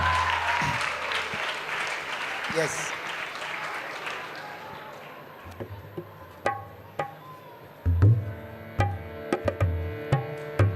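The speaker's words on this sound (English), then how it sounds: "So let us all put our hands together once and cheer up." An audience claps for children dressed up to perform at a Shivratri festival celebration; the applause is strongest at the start, fades away, and then gives way to scattered sharp knocks and a brief spoken word.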